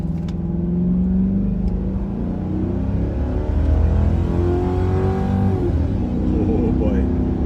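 A P7B Ford Crown Victoria Police Interceptor accelerates hard from a standstill on a road test, its engine revving up with a loud, rising, steady drone heard close from inside the car, while people speak over it.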